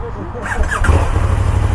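A KTM 1290 Super Duke R motorcycle engine catches and settles into a deep, steady rumble close by, with a person speaking over it.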